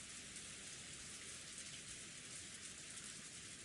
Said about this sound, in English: It had finally started to rain.